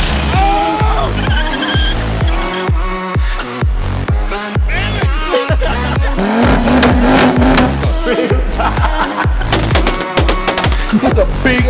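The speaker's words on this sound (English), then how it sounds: "That's a big ass turbo." A car with a big turbo engine roars hard and close while its tires squeal and skid, with loud, choppy pulses of engine and rubber noise running throughout.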